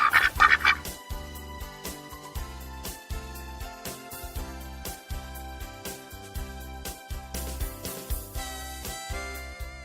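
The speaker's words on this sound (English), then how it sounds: "Duck." Repeated duck quacks in a steady rhythm over bright backing music, with a loud burst of quacking at the very start.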